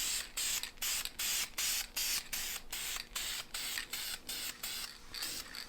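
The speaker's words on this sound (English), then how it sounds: "When you're spraying primer, you're not really trying to drench it on and finish it in one coat" Primer coat sprayed from a spray can in short hissing bursts, about a dozen evenly spaced passes with brief gaps between, close and loud, no voices.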